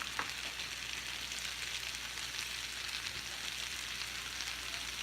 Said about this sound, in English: I'm going to let it saute.